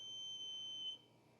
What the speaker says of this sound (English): My voltage tester keeps beeping.